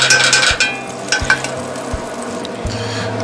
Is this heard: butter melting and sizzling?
yes